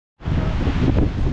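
Strong wind buffets the microphone on a beach at Praia Grande, Arraial do Cabo, near the fishermen's deck, making a loud, continuous roar that begins abruptly and carries some faint surf beneath it.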